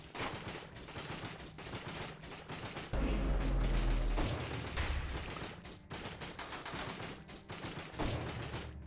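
Turrets in the roguelike video game Dead Cells firing at an elite enemy: rapid, continuous gunfire-like shots mixed with game impacts and a brief heavy low rumble, loud and busy throughout, with no talk.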